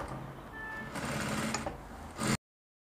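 A sewing machine stitching folded fabric while sewing a cowl kimono bubu runs in a close, continuous whirring burst that rises toward the end and then stops abruptly.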